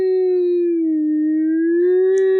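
A person's voice imitates a siren with a steady sustained wail that dips slightly and rises again, loud and close, alone without other sounds.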